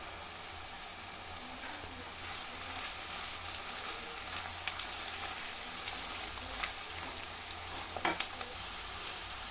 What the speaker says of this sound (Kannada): ಎಲ್ಲ ವೆಜಿಟೇಬಲ್ಸ್ ಎಲ್ಲ ಆಯಿಲಲ್ಲೇ ಫ್ರೈ ಮಾಡ್ಕೋಬೇಕು. ಈಗ ಕೋಸು ಹಾಕ್ತಾಯಿದ್ದೀನಿ.